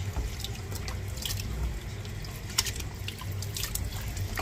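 Chicken gizzard washed by hand under running tap water in a sink, a steady close trickle of water with intermittent splashes and wet handling noises, no voices.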